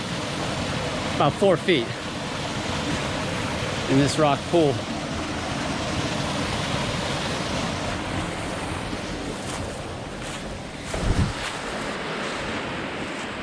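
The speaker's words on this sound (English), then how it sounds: "Nice little waterfall." Steady rushing water from a small waterfall on a creek fills the scene, with a voice speaking briefly over the continuous splashing flow.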